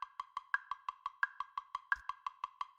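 Even, rapid clicks mark sixteenth notes, four evenly spaced ticks per beat, with a slightly accented tick at the start of each beat, faint and crisp, steady for about three seconds.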